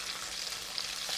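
Chicken wings for crispy sweet soy wings sizzle steadily in hot oil while deep frying to a golden brown, a dense, even crackle that continues without pause and with no voices.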